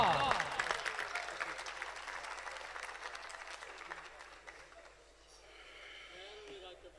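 Applause from the audience at an Urdu poetry gathering, a mushaira, welcoming poet Raakib Mukhtar to the stage. A dense burst of clapping starts loud and slowly thins out over several seconds, with a voice speaking faintly underneath near the end.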